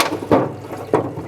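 Water splashes over an old mag drive chain part during a rinse, two short gushing bursts close to the mic with quieter trickling between them and no voices.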